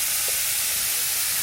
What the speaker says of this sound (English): Now I'm going to add my onion.